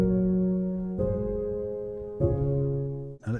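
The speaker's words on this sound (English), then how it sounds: "the original scalar sound, which is the felt piano, will be played, and you'll hear that as well." Soft felt piano from the Scaler 2 plugin, soloed, playing sustained chords that change about every second, with a brief higher note at the end and no talking.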